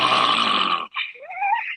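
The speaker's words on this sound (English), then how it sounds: "I never heard a dog make that noise before." A dog makes a strange grunting vocalization, a loud close rasping groan followed by a shorter, higher, wavering grunt, alone without talk.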